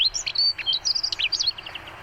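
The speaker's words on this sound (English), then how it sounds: "I've found the cheerful sound of a dunnock or a hedge sparrow." A dunnock, or hedge sparrow, sings a rapid, cheerful warbling phrase of high twittering notes, clear and fairly close, with no other voices.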